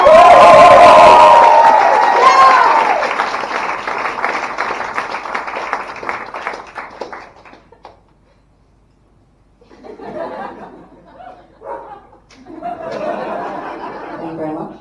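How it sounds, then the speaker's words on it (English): A stand-up comedy student show audience greets a guest comic with loud, dense clapping, cheers and laughter that swell at first, then thin out over several seconds before fading into scattered crowd noise and talk. "This is where you clap!"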